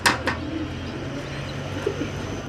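Sirazi pigeons with pure silver plumage give soft, low cooing. A couple of sharper flutters or calls come at the start, and a steady murmur continues through the short stretch.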